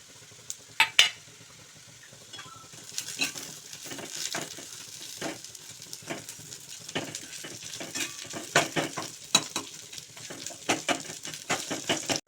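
Semolina, cashews, almonds, cardamom and raisins roast in ghee for moong dal sheera, a soft sizzle with frequent scraping, stirring strokes that start after a couple of quiet seconds and a few early clinks.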